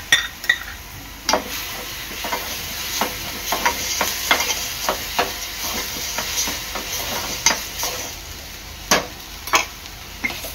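Ginger, garlic and chilli paste frying with mutton chops in a pan, a soft continuous sizzle broken by irregular sharp clicks and scrapes of a spoon stirring against the pan, no voices.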